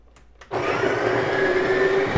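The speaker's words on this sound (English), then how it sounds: "Turn back on the grinder, on the machine. Okay, I'm gonna run it one more time." The built-in coffee grinder of a Breville espresso machine, loaded with stale beans, starts up after a brief quiet moment. It runs with a loud, steady whirring whine close to the microphone, with no talking.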